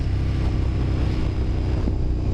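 Remapped KTM 1290 GT motorcycle with LP suspension and Brembo brakes, its engine giving a steady, loud low rumble close to the microphone, with a little wind noise and no talk.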